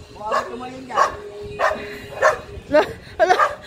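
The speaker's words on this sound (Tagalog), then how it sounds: "Gigil na gigil yung mga aso." Several dogs bark in excited, irregular bursts, fairly close, with a couple of higher yips among the barks.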